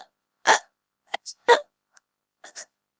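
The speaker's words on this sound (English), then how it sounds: "I've got a terrible case of hiccups." A cartoon pencil character hiccups in a culinary class, several short sharp vocal bursts spaced irregularly across a few seconds, close and loud against silence.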